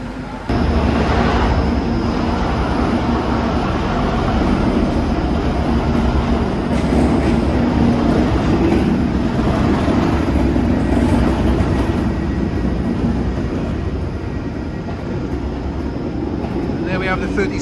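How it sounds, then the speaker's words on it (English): A Class 37 diesel locomotive pulls into Birmingham New Street station with a loud, continuous engine rumble and rolling wheel noise that hold steady for most of the stretch, with voices in the background. "There's our train, just coming into New Street now."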